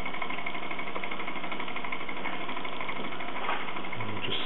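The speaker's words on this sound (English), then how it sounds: "It's quite a nice chuffing sound." A Luton Bowman PW203 model steam engine running slowly gives off a steady, rapid chuffing and mechanical chatter, close and continuous, in muffled, band-limited sound.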